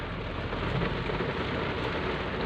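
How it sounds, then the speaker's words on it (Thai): Heavy rain pours over a flooded road between Chonnabot and Mancha in Khon Kaen, Thailand, a dense, unbroken roaring hiss with low rumble throughout and no voices. "ฝนก็ตกแรงครับ"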